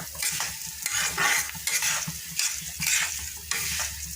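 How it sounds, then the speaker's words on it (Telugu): Spices dry-frying in a pan for karam podi, stirred with repeated scraping strokes over a soft crackling sizzle, close and fairly quiet, with no talking. "కొంచెం ఓపిక్గా లో టు మీడియం ఫ్లేమే పెట్టుకొని బ్రౌనిష్ కలర్ వచ్చేంత వరకు ఫ్రై చేసుకోవాలి"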